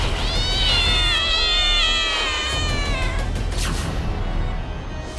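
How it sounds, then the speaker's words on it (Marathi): Pet cats inside a crowded flat meow loudly and insistently, several drawn-out overlapping cries rising and falling close by, fading into a rough background of cat noise. "पुण्यात एका फ्लॅटमध्ये तब्बल 350 मांजरं"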